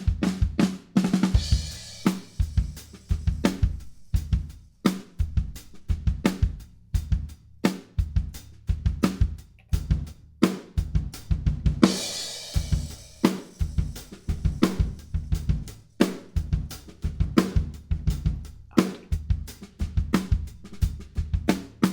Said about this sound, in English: Right now we got an enormous stereo spread of the drum kit.